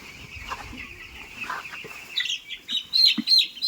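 A flock of 13-day-old broiler chickens on a poultry farm clucks and peeps close by, quiet at first, then busier with high chirps and soft clucks toward the end.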